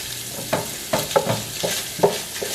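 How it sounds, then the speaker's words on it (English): Ground beef, 90-10 lean, browning in a pot and stirred with a utensil, giving a soft steady sizzle broken by several distinct scraping stirs, close and alone. "Okay, so my ground beef is pretty well browned."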